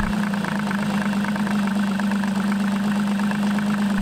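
An Evinrude E-TEC outboard motor idles during diagnostic testing with a steady, loud, even hum and a strong low drone, continuous throughout with no talking.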